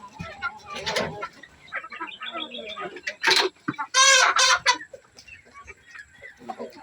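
Native chickens cluck and squawk while feeding on a farm, with bursts of loud, close clucking and calls over a background of people talking.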